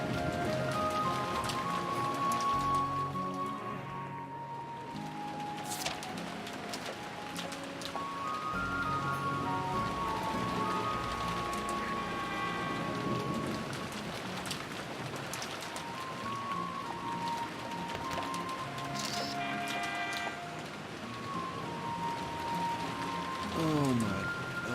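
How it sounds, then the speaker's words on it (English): Rain and stormy weather ambience in an audio drama, a steady patter of rain under music and occasional voices throughout. "He stood in the entranceway with the rain blowing in, staring dumbfounded at a stormy sky that was painted black"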